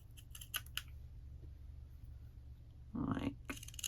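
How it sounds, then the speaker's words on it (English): Scissors snipping the tails of a ribbon bow for a handmade card: a few sharp, close clicks early on, then a short crisp cut and a final quick snip against a quiet room. "I can trim off my tails"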